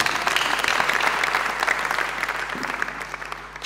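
A church congregation at EAR/DC Cathedral applauds in praise of God, a dense, steady wash of many hands clapping that carries through the whole stretch and swells slightly at the end.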